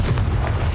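A Confringo fire spell exploding in Hogwarts Legacy, a short, dense, low booming burst that fills the moment and fades quickly.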